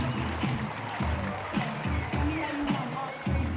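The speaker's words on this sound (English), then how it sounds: "give them a round of applause" Crowd applause at a New Zealand NBL basketball game, Nelson Giants against Manawatu Jets: steady, dense clapping filling the arena for the whole stretch, with a voice talking over it.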